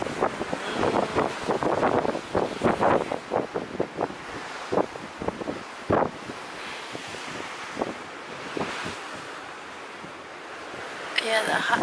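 Open ocean waves and strong wind on the deck of the cruise ship Carnival Breeze, gusts buffeting the microphone in rough bursts over a constant rushing sea, with occasional voices in the background.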